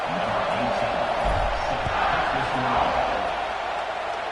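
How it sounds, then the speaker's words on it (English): In a college football video game, a stadium crowd roars steadily at kickoff, a broad, continuous wall of cheering and murmuring that stays loud throughout, with faint voice-like mutter mixed in. "They're set to kick it off, and this crowd now ready to get behind them."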